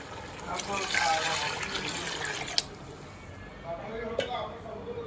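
Water poured into a pot while chicken biryani cooks at home, a close splashing gush under people talking in the room, then a softer trickle as the pour tapers off.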